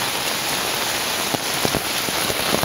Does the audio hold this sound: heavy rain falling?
yes